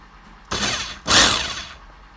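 A rotary hammer in hammering mode runs in two short loud bursts, each about half a second long, separated by a brief pause, with a rough mechanical rattle and no talk.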